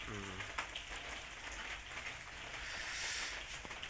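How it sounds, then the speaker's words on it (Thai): Steady rain hissing and pattering on a surface, a continuous soft wash with occasional louder drops. "ฝน ฝน ตลอดทางนะครับ"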